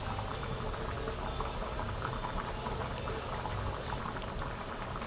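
Toor dal and potato bubble in a pot on the stove, giving a steady, dense, close-up burbling and rolling boil that continues evenly without pause.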